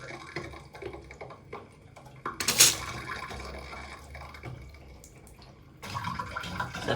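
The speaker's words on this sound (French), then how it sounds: "Ben, essayons d'ouvrir le robinet." A cold-water tap opened during a home renovation, giving a short sputtering hiss as air escapes before a quieter flow of water settles in, with faint background noise around it.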